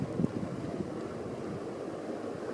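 A flush-mount Hunter Studio Series ceiling fan from about 1997, running with a steady low airy whoosh and soft motor hum, continuous and unbroken.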